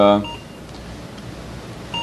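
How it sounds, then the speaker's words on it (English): Two short electronic timer beeps, one at the start and one at the end, separated by a quiet stretch of low background noise. "if you can hear the beep sounding"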